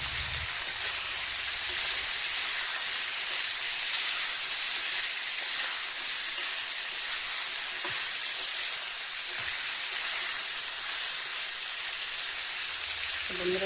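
Potatoes frying in a pan in a Bengali home kitchen, a steady loud hiss and sizzle that holds evenly throughout, with a few faint clicks.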